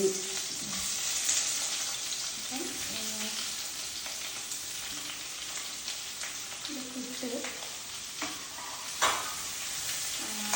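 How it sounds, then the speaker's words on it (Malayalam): Onions with a pinch of salt sauté in a pan with a continuous hiss. Occasional spoon strokes stand out over it, and faint voices murmur now and then. "നന്നായിട്ട് വഴറ്റി ഞാനെപ്പോഴും ഉള്ളി വഴറ്റാൻ നേരത്ത് കുറച്ച് ഉപ്പും കൂടി അതിൻ്റെ കൂടെ ഇട്ടിട്ട്"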